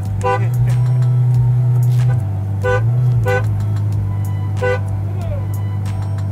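A car horn sounds in repeated short honks in the middle of slow traffic in a Batumi traffic jam, heard from a Ferrari F12 Berlinetta. The honks come in short bursts over a steady engine drone.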